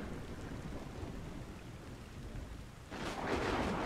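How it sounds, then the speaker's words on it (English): Steady rain hiss fills a stormy scene in the video game Final Fantasy X-2, swelling suddenly near the end with a louder rumbling burst like thunder or heavier downpour; no voices. "It's also like constantly raining."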